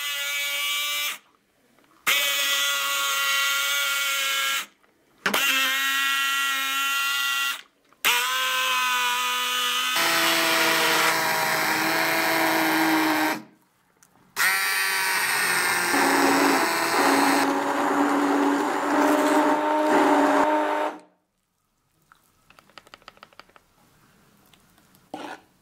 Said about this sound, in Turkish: Yumurta ve portakalı çekmek için isterseniz blender veya da el mikseri kullanabilirsiniz.